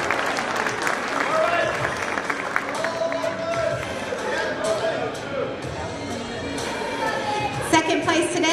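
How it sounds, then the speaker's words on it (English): A crowd applauds at a natural classic physique bodybuilding championship, a steady wash of clapping with cheers and chatter mixed in, lasting throughout and close-sounding. "Big round of applause for number 89, Keith Hunter."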